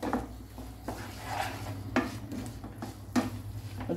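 Spices with rock salt and turmeric frying and being stirred in a pan, heard as soft sizzling under repeated clinks and scrapes of a utensil against the pan, close and moderately loud, with no voices.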